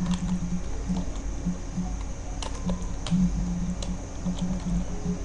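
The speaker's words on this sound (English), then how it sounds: "you can try typing here" Typing on a computer keyboard during an Ubuntu 11.10 setup makes quick, irregular key clicks in short bursts over a faint steady hum, close and fairly soft, with no voices.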